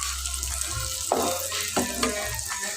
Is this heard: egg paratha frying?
yes